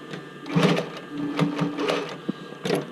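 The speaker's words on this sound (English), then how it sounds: "I'm just going to stitch this right to the edge just so everything is attached." A sewing machine stitching along the edge of a swimsuit bra cup, short bursts of rapid mechanical whirring and clatter, close by, stopping and starting several times, with no voices.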